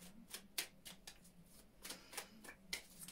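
Quiet, crisp bursts of tarot cards being shuffled, several riffles in a row with short pauses between, close by and with no talking.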